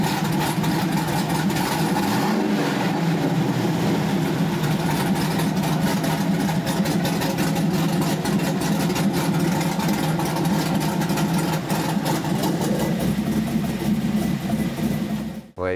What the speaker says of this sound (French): je lui donne quelques coups de gaz